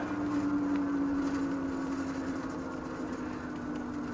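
An Electric Bike Company Model E e-bike motor pulls the rider up a hill at about 8 mph, giving a steady close whine with a droning hum underneath that slowly falls in pitch as the bike slows on the climb.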